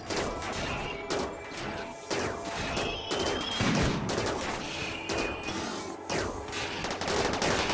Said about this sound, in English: Now the turrets won't shoot at the ship, they will only shoot at these guys.